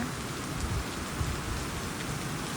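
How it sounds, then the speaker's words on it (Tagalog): Heavy rain pours steadily, a dense broadband hiss with no voices, constant and close throughout. "grabe, lakas ng ulan"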